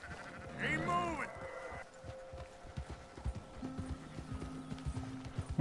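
Horse hooves clip-clop at a steady pace in Red Dead Redemption 2, with a brief whinny near the start and low game ambience throughout, some sheep-like bleating mixed in.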